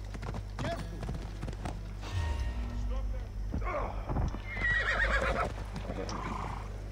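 A horse in Assassin's Creed Odyssey whinnies loudly over clip-clopping hooves, the neigh rising mid-scene while game sounds and a voice run alongside.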